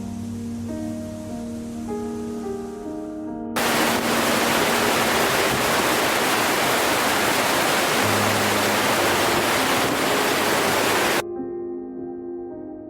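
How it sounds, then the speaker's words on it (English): Gullfoss waterfall in Iceland roars as a loud, steady broadband rush that surges in for several seconds over a musical backdrop, then cuts away. "People from all over the world come to see this amazing waterfall."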